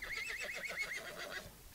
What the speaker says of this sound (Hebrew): זה סוס.